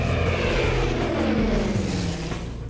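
Douglas DC-3 propeller airliner engines drone loudly and steadily, a close, throbbing piston roar that holds for a few seconds before easing slightly.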